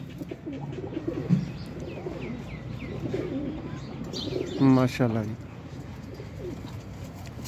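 Teddy golden pigeons for sale cooing and chirping in a loft, soft repeated coos and a brief flurry of calls near the middle, under a man's speech.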